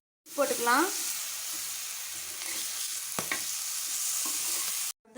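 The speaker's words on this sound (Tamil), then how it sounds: "இப்போ கருவாடு சுற்றி எண்ணெய் ஊற்றிக்கலாம்." Dried fish (karuvadu) frying in oil: steady broadband sizzle, close and loud throughout, with a few brief clinks or stirs near the start and middle, and no voices.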